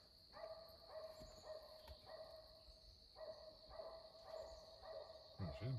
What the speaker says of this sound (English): she's barking real nice, but Sever didn't stay with her.